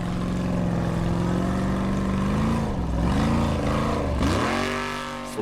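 A Formula Offroad buggy engine roars at full throttle at an Icelandic competition in Akureyri, loud and sustained with a rising and falling pitch as it revs, dipping briefly before climbing again.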